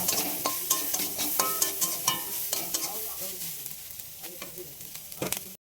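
Chili powder and cumin paste fry in a pan for a snail curry, a close steady sizzle broken by regular scraping stirs that thin out before the sound cuts off abruptly.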